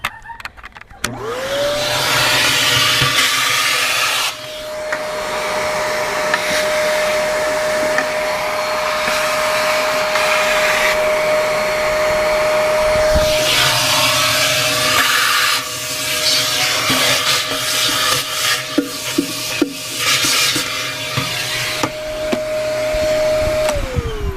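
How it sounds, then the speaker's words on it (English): A vacuum cleaner runs loudly and continuously with a steady high whine, briefly dropping out mid-way, accompanied by scraping and rubbing as it cleans residual silicone from an aquarium. "clean up that residual bit of silicone using just a vacuum cleaner"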